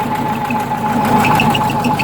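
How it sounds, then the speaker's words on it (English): Close, loud idle of a Porsche 914 Type 4 engine with a loose drive belt, a steady mechanical drone carrying a faint repeating tick and a thin high whine. "That's the noise you hear. That's the belt."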